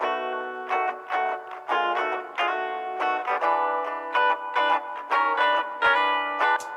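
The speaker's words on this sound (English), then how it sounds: "I change this preset to a bright hall, which is going to give us more brightness and less muddiness" A bright hall reverb applied to a short distorted instrumental phrase of staccato chords adds a clear, airy tail with little low-end muddiness; the notes are loud and rhythmic with no talk.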